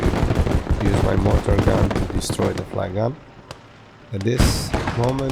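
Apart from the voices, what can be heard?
flak gun firing in Gates of Hell: Ostfront video game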